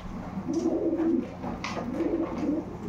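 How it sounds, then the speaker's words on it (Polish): Racing or breeding pigeons coo in low, rolling phrases, two clear bursts close by, with faint background rustle and no talk. "Ładny gołąb."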